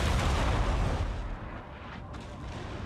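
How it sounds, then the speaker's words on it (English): Cannons fire in a Napoleon: Total War battle as a loud, dense roar of artillery booms that fades slightly midway and then builds back up, with no speech. "Keep firing cannons."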